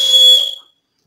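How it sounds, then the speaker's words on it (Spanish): A shrill emergency whistle sounds one loud, steady blast close up, holding about half a second before cutting off into silence. "Un silbato de emergencia."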